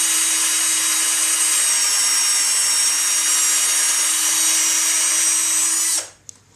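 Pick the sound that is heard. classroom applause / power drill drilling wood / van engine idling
power drill drilling wood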